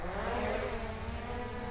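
DJI Mavic Air 2 drone motors spinning up for takeoff in a town square, a steady loud whirring drone that holds evenly and close throughout.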